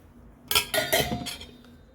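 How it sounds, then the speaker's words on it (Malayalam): Idli batter being stirred with ginger, green chili and curry leaves, a spoon clinking and scraping against the bowl in a quick run of four or five knocks, close and fairly quiet, no talking. "ഇഞ്ചി പച്ചമുളക് കറിവേപ്പില ഇത് മൂന്നും അതിലേക്ക് ഇട്ട് കൊടുക്കാം നമുക്ക് കേട്ടോ എന്നിട്ട് നന്നായിട്ടൊന്ന് ഇളക്കി കൊടുക്കാം"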